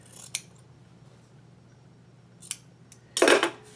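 Scissors trim quilting fabric in a few sharp, close snips, with one longer crisp cut at the end against a quiet background.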